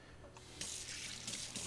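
Tap water runs into a kitchen sink as a knife is rinsed, a soft steady hiss that swells louder in uneven bursts as the blade passes through the stream, quiet and near, with no talking.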